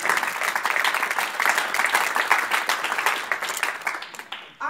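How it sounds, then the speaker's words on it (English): Audience applause fills a room at a candidates forum at Chicago State University, with dense, steady clapping from a crowd that holds loud for several seconds and then tapers off near the end. "Can we get a round of applause?"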